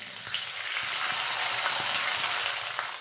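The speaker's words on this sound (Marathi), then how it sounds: "अजून पापड तळते मी" Papad made from semolina frying in hot oil, a steady, close hiss and bubbling sizzle that swells slightly and holds, with faint clinks of a utensil.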